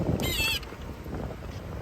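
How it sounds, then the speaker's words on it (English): A Shimano Dura-Ace 9150 front derailleur shifts a bicycle chain from the small ring to the big ring, giving one brief, close metallic scraping whir that quickly fades into a quiet room. "That is the sound of a Dura-Ace 9150 moving the chain from the small ring to the big ring."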